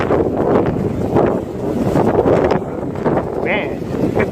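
Strong wind buffets the microphone outdoors while an Eachine QX90C micro drone flies in acro mode, a loud rushing roar surging and dipping in gusts throughout, with a brief high whine near the end.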